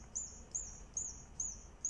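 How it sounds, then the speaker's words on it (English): An orphaned baby squirrel peeps for its mother, sounding like a little bird: five faint, high, evenly spaced chirps repeating about twice per second against quiet background. "if you hear a sound like that, like peeping like a little bird, it's probably an orphaned squirrel"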